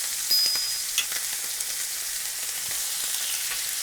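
A ribeye steak sears with butter in a hot pan, giving a steady close sizzle and frying crackle with small spatters and light stirring noises, no voices.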